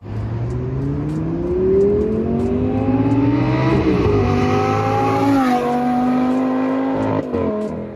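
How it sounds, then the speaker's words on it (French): A Lamborghini Gallardo V10 LP 550-2 Valentino Balboni pulls hard from inside the car, its V10 rising in pitch through several gears with brief drops at each shift, loud and continuous. "On va se faire une petite accélération sympa."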